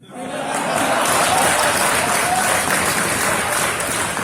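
A large audience applauds loudly and steadily at a comedy talk at IIT, dense clapping that swells quickly and holds evenly throughout.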